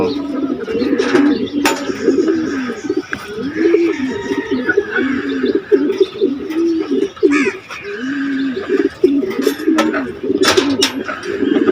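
Racing pigeons coo close by in repeated low, throaty rolling calls, several birds overlapping in a steady rhythm, with occasional wing flaps and light chirps.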